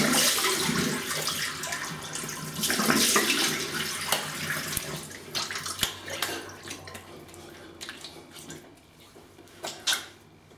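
Water runs from a bathroom tap to rinse a plastic safety razor after a shave, a loud gushing stream that tapers off, with clinks and splashes as the rinsing winds down.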